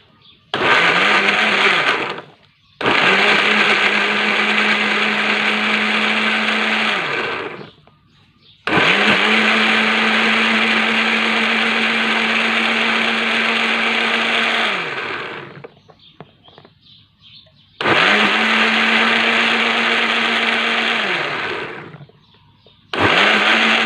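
Electric blender whirring as it blends a seafood dipping sauce, several loud bursts of steady motor whine lasting a few seconds each, separated by short quiet pauses, close up.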